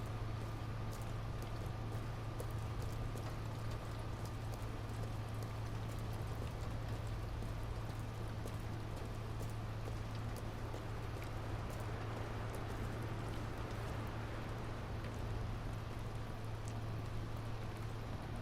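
Rain falls steadily in the video game Detroit: Become Human, a continuous dense patter of drops with a low, constant hum beneath it and no voices.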